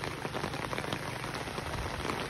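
Steady rain pours down without pause in an overnight downpour during the rainy season, a dense, even hiss of drops on surfaces filling the whole stretch with no voices.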